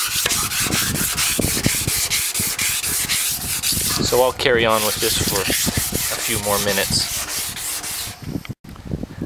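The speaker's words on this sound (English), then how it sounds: "I've finished wet sanding the dish." Steady rhythmic wet-sanding strokes on an old satellite dish rasp back and forth, close and continuous, with a person speaking briefly partway through.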